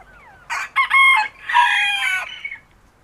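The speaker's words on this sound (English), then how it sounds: "Got a whole mess of roosters" A rooster crows close by in a backyard flock, a loud broken cock-a-doodle-doo in several bursts over about two seconds, set against quiet ambience with faint clucking.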